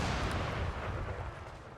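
Cannon fire in a Napoleonic-era battle in Empire Total War, a dense continuous rumble of booming shots and distant blasts layered over one another without pause.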